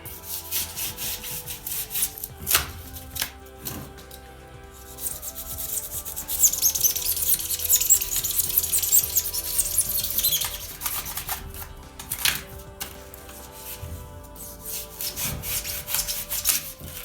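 A knife slicing through cured spray foam insulation to carve a small ledge, steady scraping and rubbing strokes up close that swell into a louder, hissier stretch midway, with no talking.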